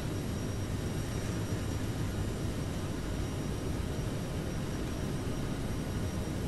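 An Aerosoft CRJ jet in Microsoft Flight Simulator makes a steady, unbroken engine roar during its takeoff roll, loud and even throughout with no talking.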